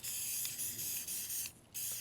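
An aerosol can of satin bright white exterior spray paint hisses loudly in close, continuous bursts broken by brief pauses, with no voices.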